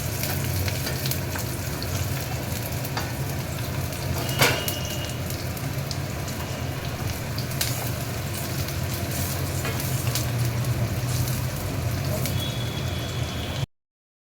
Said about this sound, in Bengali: পেঁয়াজটা বেশ খানিকটা ভাজা হয়ে গেছে, মানে লাল ফ্রাই হয়ে যাচ্ছে